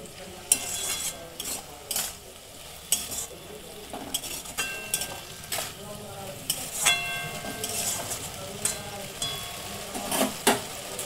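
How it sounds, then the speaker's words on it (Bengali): Eggplant and beans are stirred in a pan with a utensil, producing intermittent scraping and clinking strokes at a fairly quiet level over a soft sizzle, with no talking. "একটু ভালো করে নাড়াচাড়া করে নিলাম।"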